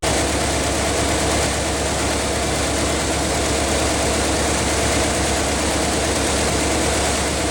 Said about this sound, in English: Okay, now I need to turn the car on.